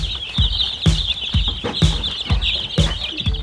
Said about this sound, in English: We got uses for all these chickens